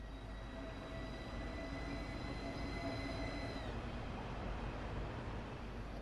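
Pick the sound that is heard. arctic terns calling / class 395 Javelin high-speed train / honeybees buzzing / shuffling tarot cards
class 395 Javelin high-speed train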